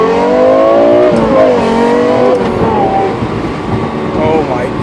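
Lexus LFA with a normally aspirated V10 of 560 horsepower, heard from inside the car accelerating hard, its loud rising harmonic wail shifting pitch through gear changes, steady and close throughout.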